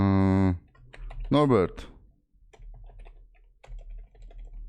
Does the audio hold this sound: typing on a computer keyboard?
yes